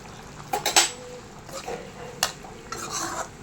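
A spoon stirs mushroom pepper gravy in a pan, giving several distinct scraping clinks against the metal over a faint sizzle.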